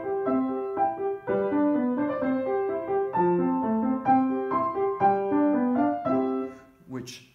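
A keyboard plays a steady Pachelbel-style sequence of block chords, each in root position, moving in parallel with a solid, plain sound, ending with a brief higher noise.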